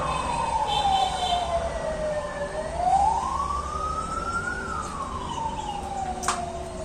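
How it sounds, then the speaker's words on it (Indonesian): An ambulance siren wails near a three-way junction by a market in mountainous country, its pitch sliding slowly up and down in long sweeps over steady traffic noise. "ada ambulans."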